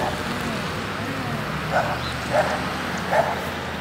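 A young puppy gives a few short yips and whimpers, three brief high cries spaced about a second apart, over a low room rumble with a faint voice in the background.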